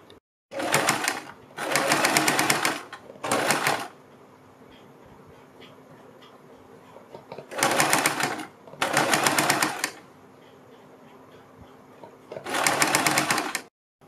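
A sewing machine stitches a neck strip on a kurti, running in four loud bursts of steady whirring with short quiet gaps between them.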